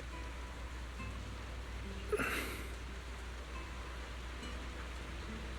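Steady rain in Zenless Zone Zero makes an even, soft hiss throughout, with one brief brighter splash or rustle in the middle.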